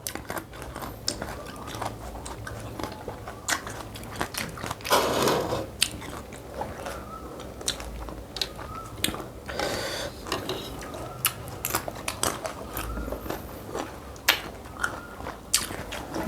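Repeated crisp crunching bites and chewing of green mango dipped in chili paste, close to the mic, with irregular sharp crackles and short pauses between bites.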